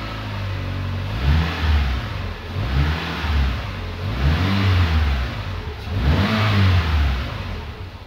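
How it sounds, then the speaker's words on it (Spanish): A Renault Clio 1.2 16v engine, fitted with a newly changed clutch, runs loud and close with repeated rising and falling revs over a steady mid-pitched drone. "Vamos a ponerlo en marcha."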